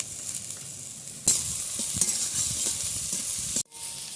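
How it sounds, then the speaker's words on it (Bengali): Chopped onion and carrot fry in a pan with a steady close sizzle, broken by spatula stirring knocks and scrapes before a sudden short break. "পেঁয়াজ আর গাজর দিয়ে একটু ভালো করে ভেজে নিয়েছি"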